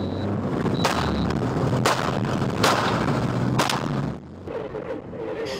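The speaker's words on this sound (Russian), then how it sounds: "Самой примечательной стала ночная погоня еще и со стрельбой." Police gunfire during a night car chase: several sharp, loud shots ring out at irregular intervals over a constant rumble of moving vehicles, then the rumble drops away toward the end.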